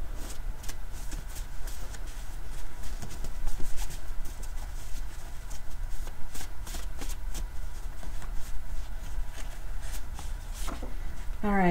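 A tarot card deck being shuffled by hand: a steady, close rustling and riffling with soft card slaps, holding an even level throughout over a low background hum.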